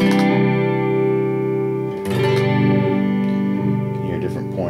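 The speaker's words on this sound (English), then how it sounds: "you get a nice through zero flanging effect" Electric guitar played clean through a Flanger Hoax pedal set for through-zero flanging, sustained chords whose tone sweeps and whooshes as the delay passes zero, loud and close, with a brief break before the chord rings on.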